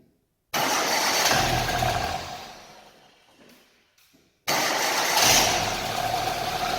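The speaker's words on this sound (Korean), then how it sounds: "크랭킹을 해서 엔진을 한번 돌려보고" A car engine cranks and fires during an oil-level check after an oil change, running loud and steady, then fading as it shuts off, with silence before a second start that settles into a strong idle; no talking.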